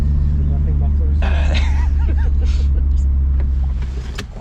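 Loud, steady low diesel exhaust rumble from an MK2 Jetta with an ineffective muffler, droning throughout with voices talking over it.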